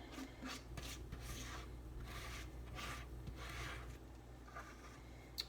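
Brownie batter scraped from a bowl into an oil-lined baking dish, a series of soft rasping strokes, close and steady, with no voices.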